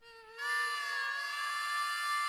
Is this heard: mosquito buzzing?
yes